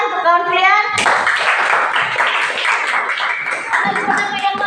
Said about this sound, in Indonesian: tepuk tangan untuk kawan kalian